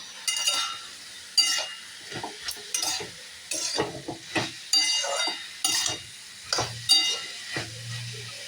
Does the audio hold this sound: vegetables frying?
yes